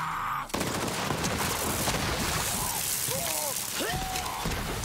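Rapid turret gunfire from the video game Borderlands 3, a dense continuous burst of shots with crashing impacts and whistling tones, loud and close throughout.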